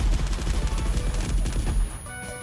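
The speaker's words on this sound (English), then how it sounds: "mortar attack, which you're about to see, which I did not expect the first time, with like gunfire sound" A loud burst of rapid gunfire from a mortar attack in the video game Backpack Survivors rattles continuously for about two seconds, then cuts off abruptly.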